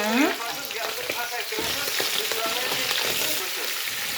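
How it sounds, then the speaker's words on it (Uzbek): Onions and meat sizzle loudly in a pan while being stirred, a dense crackle with scraping stir strokes, close up, with a faint voice briefly in the background. "Piyozni solib yana aralash qilaman endi, to'g'rimi?"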